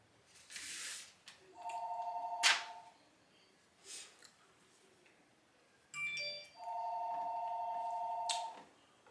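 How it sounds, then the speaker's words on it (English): A phone rings indoors in two long electronic tone bursts separated by a pause, fairly faint, with clicks and brief noises between rings and no talking. "There's a phone ringing."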